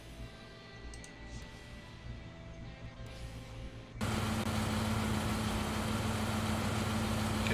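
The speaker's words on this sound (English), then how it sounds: "The sound of an engine brought me back to reality." In the visual novel game Everlasting Summer, a bus engine idles, a low steady hum that jumps abruptly to a louder, fuller rumble partway through and holds there.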